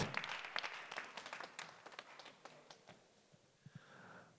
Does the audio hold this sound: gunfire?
no